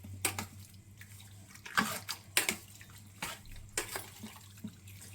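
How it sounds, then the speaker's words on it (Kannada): Water is poured into a no-oil chicken masala of salt, chili, masala powder and onion and mixed in, with faint, intermittent splashes and wet squishes separated by quiet gaps. "ನೀರು ಹಾಕ್ಕೊಂಡು ಮಿಕ್ಸ್ ಮಾಡ್ಕೊಂಬಿಡಿ ಚೆನ್ನಾಗಿ"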